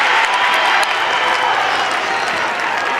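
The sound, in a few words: crowd roaring at football grand final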